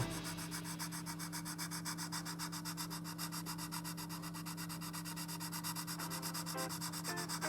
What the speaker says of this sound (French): et puis on ponce, tout simplement